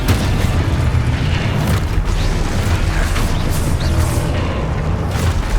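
Repeated booming blasts from Confringo fire spells erupt during a Hogwarts Legacy battle, dense and loud with crackling bursts overlapping throughout.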